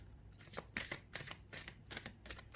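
Tarot deck being shuffled and cut by hand, a quick run of crisp riffling card bursts at a steady rhythm, close up and fairly quiet, with no talking.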